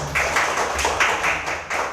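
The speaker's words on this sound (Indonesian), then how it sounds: "tepuk tangan buat Biba" Applause in a school classroom, a steady patter of many hands clapping together for a student, continuous and fairly loud across the whole stretch.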